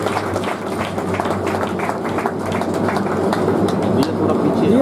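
Audience applauding in honour of 93-year-old Veer Singh Yadav at an India Book award event in Bundi, a dense continuous wash of clapping that grows slightly louder, with voices mixed in.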